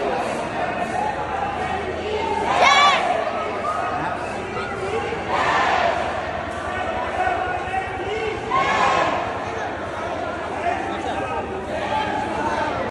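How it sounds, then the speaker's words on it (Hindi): Dense crowd murmur at the Khatushyam Ji temple in Rajasthan, a steady mass of voices with louder swells every few seconds, close and continuous throughout. "और यहाँ पर भीड़ भी बहुत थी, ऐसा आप देख सकते हैं."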